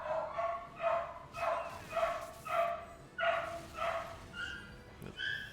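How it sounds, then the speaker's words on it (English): A dog barks repeatedly in a steady rhythm of about eight or nine sharp woofs, fairly close and loud, with a few higher yipping notes near the end. "sorry if you hear dog"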